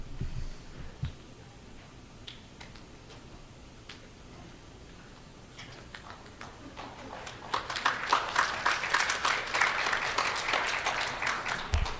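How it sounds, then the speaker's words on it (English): Audience applause breaks out at a Nishnawbe Aski Nation chiefs' meeting, swelling after a quiet stretch with scattered claps into sustained, dense clapping from a crowd that fills the last few seconds. "thank you for that clap and everything"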